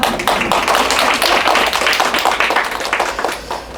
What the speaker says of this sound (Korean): 자, 이렇게 박수도 쳐주시고 감사합니다.